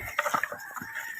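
Chickens on a pig farm cluck in a quick, choppy series of short calls, fairly close and moderately loud over a faint background hiss.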